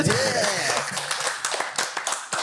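Studio audience applause for a comedy talk show, a dense wash of clapping that starts full and thins into scattered claps, with a voice briefly audible at the start.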